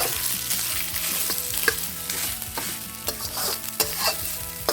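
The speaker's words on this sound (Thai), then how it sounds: "แล้วก็นำ ข้าวลงไปผัดเลยนะคะ ในขั้นตอนนี้ใช้ไฟแรงได้เลยนะคะในการผัดข้าว" Jasmine rice is stir-fried over high heat in a pan with golden fried garlic, a steady close sizzle broken by frequent scraping, tossing strokes of the spatula.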